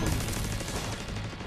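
Sustained gunfire from a video game firefight in The Division 2, a steady, dense crackle of rapid shots filling the whole moment, loud and close with no gaps.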